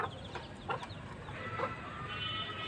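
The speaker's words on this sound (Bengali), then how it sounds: "এগুলো দেশি মুরগি, 3 মাস হয়েছে বাচ্চা আনছিলাম, 3 মাসের বাচ্চা।" Local free-range hens, about three months old, cluck softly in a yard, a few short calls rising over a quiet, steady background, fairly faint and without speech.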